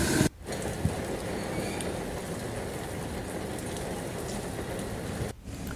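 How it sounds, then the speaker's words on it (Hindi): Heavy rain during Cyclone Biparjoy in Sheopur pours down in a dense, steady hiss, loud and unbroken except for two brief dips, with no voices. "झमाझम बारिश का दौर भी लगातार जारी है"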